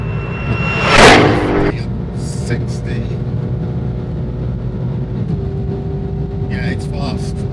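Ford Mustang GTD, an 800-horsepower car, accelerating along a 2-kilometre back straight on a track: a loud surge builds and peaks early, then a sustained engine roar with rising tones continues.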